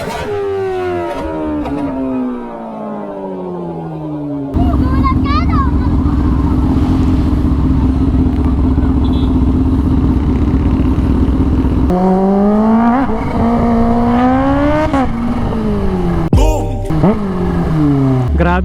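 A Kawasaki H2 motorcycle with a titanium exhaust revs hard and loud, its pitch sweeping up and down through gear changes, then holds a sustained high-rpm roar before more rising and falling revs.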